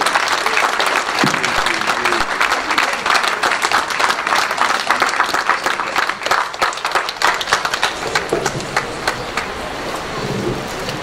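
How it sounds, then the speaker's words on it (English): A church congregation claps together during a worship service, loud, close and continuous, with sharp overlapping hand claps that run without pause. "Let's clap for Jesus Christ."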